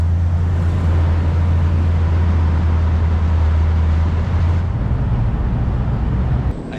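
A Briggs Cunningham car idles steadily with a deep, loud engine rumble at a car show setup, continuous and close, briefly shifting tone near the end.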